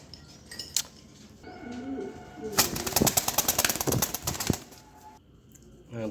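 Pigeons in a loft, including a Teddy breed hen, give off soft cooing calls with brief wing flaps and scattered clatter, a busier rustling stretch in the middle, and no talk.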